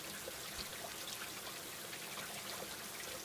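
Drizzling rain in a Bengali horror cartoon, a faint, even hiss of light falling drops with a few soft patters, steady throughout with no voices.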